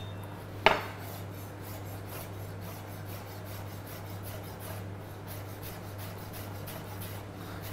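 A kitchen knife slices fresh chives into small rings on a cutting board: faint, rapid crisp cuts run steadily under a low constant hum, after one sharper knock near the start.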